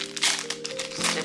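Greek mythology sticker sheets being handled, giving short, close crinkling and rustling bursts of paper, with brief tonal sounds running underneath.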